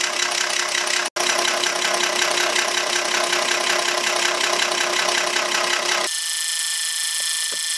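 The diesel engine of an International 3850 wheel loader idles after a Stanadyne injection pump repair. It gives a steady, close, rhythmic rumble with a mechanical knock, and its tone drops and settles near the end.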